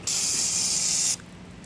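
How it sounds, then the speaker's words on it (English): Brake cleaner sprayed from an aerosol can onto an oil filter cap during an oil change on a 2012 Hyundai Genesis 3.8, one loud steady hiss lasting about a second, then cut off sharply. "Spray your oil filter cap."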